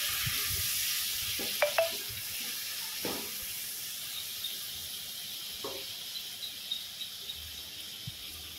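A paste of ground ginger, garlic and tomato with green chili sizzles steadily in a hot pan, a soft continuous frying hiss broken by a few light clinks and scrapes of stirring.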